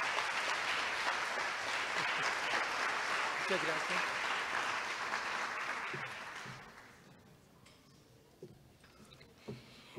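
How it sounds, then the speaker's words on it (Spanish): Warm applause from a symposium audience fills the first seven seconds, then thins to a few scattered claps and thumps as a voice speaks briefly over the fading room. "Un fuerte aplauso."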